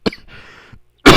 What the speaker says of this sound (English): my bad for coughing in the mic